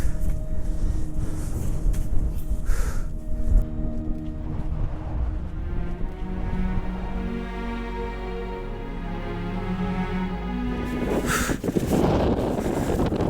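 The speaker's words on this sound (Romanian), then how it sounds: "Și vânt." Steady, rumbling blizzard wind roars against the microphone throughout, with a low droning tone underneath and a louder gust near the end, on snowy Buhăescu Mare peak in Romania's Rodna Mountains.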